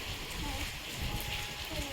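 Steady rain falls in a soft, even hiss throughout, heard at a moderate distance on a cold, wet day around a home.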